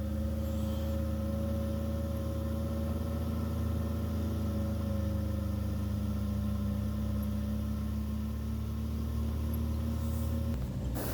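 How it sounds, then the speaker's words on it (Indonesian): Jeep driving along a rough, poorly surfaced road around Kaliurang, with a steady, continuous engine drone and low rumble from inside the vehicle, holding an even level throughout and shifting briefly near the end. "Kita melewati rute yang jalan jelek ya karena pakai mobil jeep."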